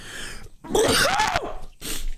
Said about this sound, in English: Big sneeze there.